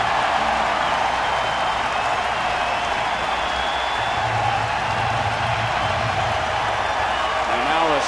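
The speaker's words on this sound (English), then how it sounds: "And now a sellout crowd begins to stand and cheer Zach home" A sellout baseball crowd at a Detroit at Kansas City game rises to its feet, a steady, dense roar of cheering with an announcer talking over it throughout.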